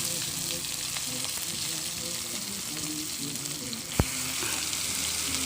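Thai curry paste fries in coconut milk in a pan for a stir-fried red curry, a loud constant sizzle with a single sharp clack near the end and no clear talk.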